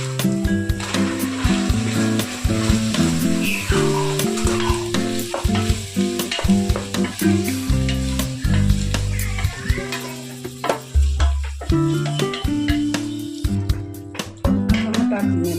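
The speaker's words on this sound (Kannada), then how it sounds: "ಟೊಮೆಟೊ ಹಾಕಿದ್ಮೇಲೆ ಚೆನ್ನಾಗಿ ಫ್ರೈ ಮಾಡಿ, ಚೆನ್ನಾಗಿ ಫ್ರೈ ಆಗಬೇಕು." Chopped tomatoes fry and sizzle in a pan for egg biryani, with steady stirring scrapes throughout and tonal music playing over the cooking sounds.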